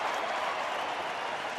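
A baseball stadium crowd roars and applauds for a rookie's base hit at Colorado's home game against Philadelphia, a dense, steady wash of clapping and cheering filling the whole moment.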